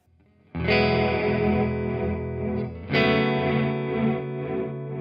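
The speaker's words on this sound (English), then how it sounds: "on the mix of the reverb, you're gonna hear a sine wave LFO" Two loud sustained chords play through a reverb pedal effect whose mix is swept by a sine-wave LFO. Each chord rings out with a smooth, wavering swell and a distorted, effected tone.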